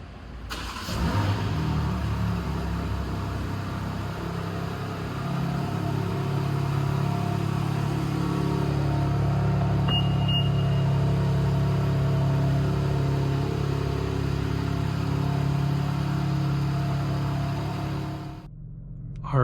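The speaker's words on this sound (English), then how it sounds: "Car is started up." A 2025 BMW M4 CS runs after starting up on a rainy day, a steady low rumble of a cold engine holding close and loud throughout with no talk, cutting off sharply near the end.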